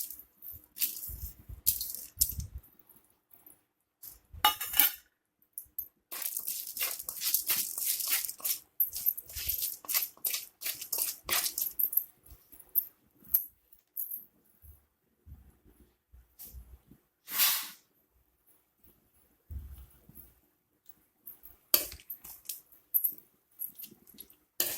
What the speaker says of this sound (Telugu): ముందు వేపుకోవాలండి దీనిలో మినప్పప్పు, మెంతులు,